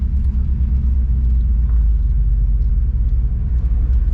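A 1966 Ford Fairlane with a Z-code 390 FE V8 and a four-speed idles and rumbles steadily up close, a deep continuous engine drone with no voices over it.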